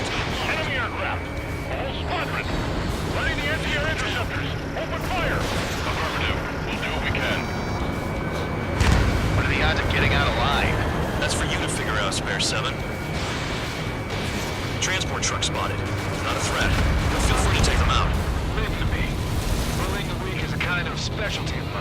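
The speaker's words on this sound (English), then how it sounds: "Ready the anti-air interceptors. Open fire." Anti-air interceptor fire in Ace Combat 7 rolls on as continuous rumbling booms and crackling blasts, dense and loud, with radio chatter running over the barrage.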